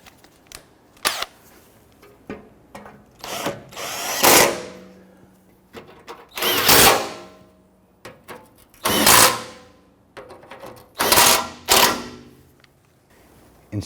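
A power tool tightens sway bar bushing bolts on a Nissan Frontier, running in about five loud, rising bursts of whirring and clicking with short pauses between them, close up and with no talking.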